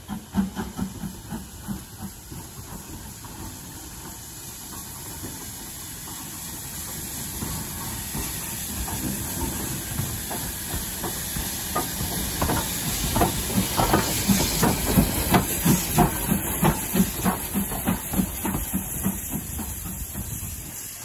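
A 4MT steam locomotive on the North Yorkshire Moors Railway gives off a long, steady hiss of steam that swells in the middle, with faint rhythmic chuffing and rail clatter underneath.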